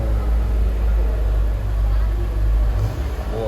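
A Honda Civic Turbo RS Gen-11 with a smooth four-cylinder turbocharged engine idles with a steady, deep low rumble under a wash of broadband noise.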